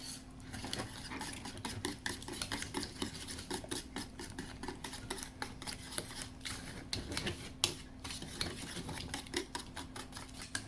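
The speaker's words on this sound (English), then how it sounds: "Second egg, and now I'm going to mix it together" Eggs beaten into blondie batter in a bowl, a busy, continuous clatter of utensil against the bowl with dense rapid ticks that carry on without a break and without speech.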